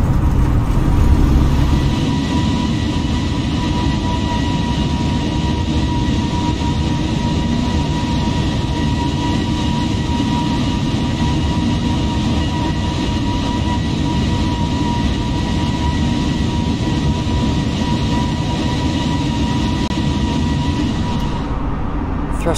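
Airbus A320neo jet engines at takeoff thrust during the climb out in a flight simulator, a loud, constant roar and rumble that holds steady throughout, with no talk over it.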